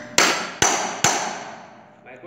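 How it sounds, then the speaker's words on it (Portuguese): Three sharp metallic strikes of a small hammer on a size 10 steel pin, close and loud, each ringing briefly and decaying, spaced about half a second apart with no talk. "Vai pegar um martelinho."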